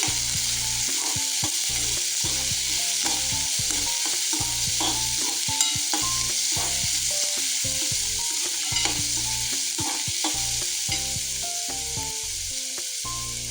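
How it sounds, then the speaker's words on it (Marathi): Cabbage, carrot and capsicum are stir-fried in a hot pan for veg manchow soup. A spatula scrapes and tosses the vegetables in quick, regular strokes over a continuous hiss of frying, close by and with no voices. "पत्तागोबी, गाजर, परत एकदा मिक्स करून घेऊया।"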